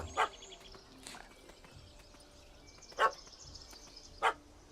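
A puppy in The Witcher 3 video game gives a few short, sharp barks spaced apart over quiet ambient game sound, moderately close.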